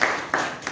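An audience at an RCM business seminar in India claps in a short burst, with three distinct clap onsets close together, loud and near.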